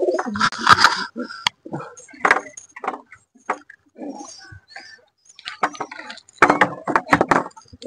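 Pigeons cooing and fluttering close by as they are released to fly, with irregular bursts of calls and soft rustling.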